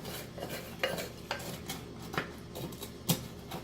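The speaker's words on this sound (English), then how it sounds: "Just stir this around." Food stirred in a pan while a peanut-sauteed steak dish cooks, likely softening ingredients. A spoon scrapes and clinks against the pan in irregular soft taps under a faint steady sizzle, close by and fairly quiet.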